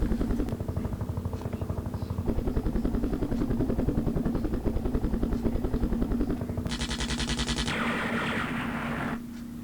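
Helicopter gunships attacking in the Vietnam war game Campaign Series Vietnam: rapid rhythmic rotor chop with continuous machine-gun fire, a bright burst of fire layered in partway through.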